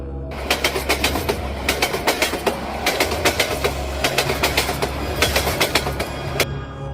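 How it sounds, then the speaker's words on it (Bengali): Iron train wheels clatter over the rails in a quick, steady rhythm under a low rumble of rolling stock. "আশ্চর্য হয়ে চারপাশে দেখতে কানে এলো লোহার চাকায় ঘর্ষণের শব্দ"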